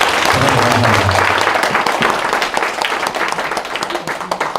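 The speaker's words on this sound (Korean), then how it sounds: "마지막으로 큰 박수 한번 쳐주시면 고맙겠습니다" Audience applause at the close of a lecture at an education and training institute, dense and steady clapping from a crowded room at full volume, with some voices mixed in at the start.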